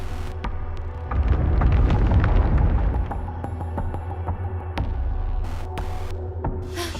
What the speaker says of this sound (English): It's an avalanche!